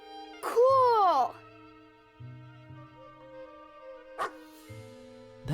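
A cartoon cat barks like a dog, giving one strong wavering bark-yip and a couple of shorter sharp yips, with soft musical tones underneath in an animated setting.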